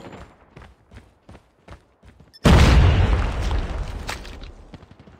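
A grenade explodes in Call of Duty: Mobile with one heavy, close boom that rolls off into a long decaying rumble, following a run of soft footstep-like taps.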